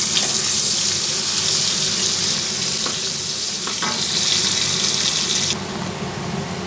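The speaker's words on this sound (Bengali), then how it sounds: "এবার আমি এই কুচনো পেঁয়াজটা দিয়ে দেবো। এটা একটু ফ্রাই করব" Chopped onions sizzle loudly in a pan, a continuous frying hiss with a few faint clinks, fading slightly near the end.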